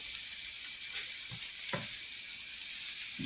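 Onions sautéing in a pan, a close, bright, continuous sizzle with a couple of soft stirring knocks, no talking.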